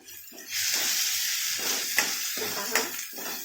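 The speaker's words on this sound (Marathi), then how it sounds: "याला चांगलं फ्राय करून घ्यायचे" Red chili powder frying in hot oil for a dal tadka, a steady bright sizzle with a few sharper spits, while someone talks over it close by.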